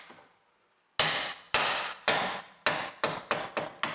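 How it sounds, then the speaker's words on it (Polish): Hammer blows tap a part into an Opel Vectra C control arm, with seven or eight sharp metallic knocks at close range. They follow a short quiet lead-in and come closer together as the series goes on. "opieram sobie młotek trzonkiem i delikatnie dobijam."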